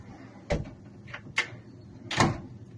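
Several solid clunks as tool cabinet drawers, rated to 90 kilos, shut one after another, each a short knock with a brief rattle, the last one loudest.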